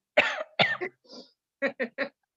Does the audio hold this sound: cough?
yes